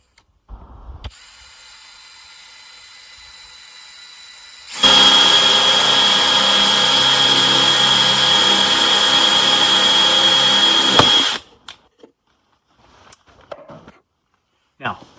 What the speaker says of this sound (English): we're going to take a drill and we are going to drill a hole into the end of the box.